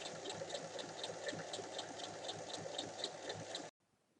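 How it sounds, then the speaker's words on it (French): Sewing machine topstitching along both sides of a seam on a fabric basket with handles, a steady fast mechanical whirr and rhythmic needle clatter running continuously for several seconds before stopping abruptly. "on vient faire une surpiqûre de chaque côté de la couture"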